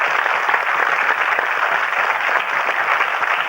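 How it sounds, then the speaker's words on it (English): A studio audience at the BBC1 game show Going for Gold gives a contestant a warm round of applause, a dense, steady roar of clapping filling the room without pause for several seconds. "A big warm round of applause for David"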